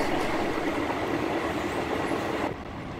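A passenger train without air conditioning rolls along in rural Thailand, its carriage giving a continuous rattling, rushing rumble heard from inside, loud and even, easing slightly toward the end.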